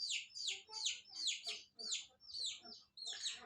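Village chickens let out a quick series of faint, rapid clucks and chirpy calls, roughly eight short bursts over a few seconds with a low background hum.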